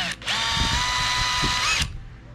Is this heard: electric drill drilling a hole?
yes